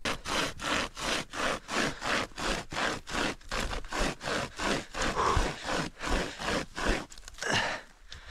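Wood being cut with a hand saw outdoors: a close, regular back-and-forth rasp of about seventeen quick strokes, each a rough scraping burst, the rhythm loosening slightly near the end.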